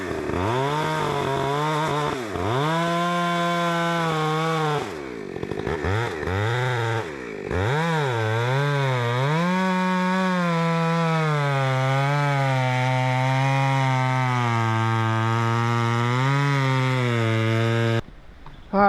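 A chainsaw cuts into a heavy leaning tree, loud and close, running steadily with pitch dips and surges as the engine bogs in the wood and revs back up, before cutting out at the end.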